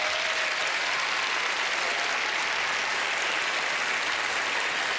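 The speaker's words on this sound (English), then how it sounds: "Please, let's give him a nice big round of applause." Studio audience at a magic show clapping for a volunteer called up on stage, a dense, even burst of applause that holds steady and loud throughout.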